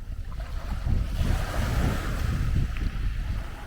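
Surf washing in at a shingle beach near high tide, the water right at the listener's feet: a steady close rush of breaking waves with wind buffeting the microphone, no voices.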